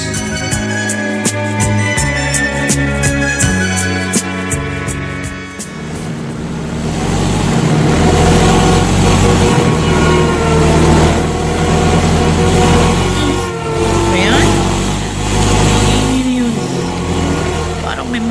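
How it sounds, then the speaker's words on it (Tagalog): A car arrives suddenly with its engine revving, a loud rising roar that swells after a brief musical opening and holds steady in a radio drama, with voices speaking under it. "Sasakyan biglang dumating."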